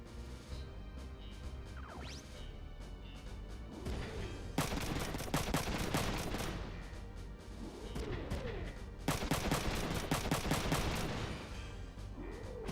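Gunfire in the mech strategy video game Front Mission 3, with loud bursts of rapid automatic fire in two long volleys, alongside booming impacts and whooshing effects over a low game soundtrack.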